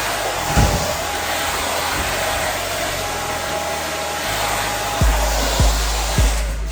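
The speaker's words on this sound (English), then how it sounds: "so we're gonna take the blow dryer." A blow dryer runs steadily at a barbershop during a haircut, a loud continuous airy roar with a few brief thumps and shifts in airflow near the end.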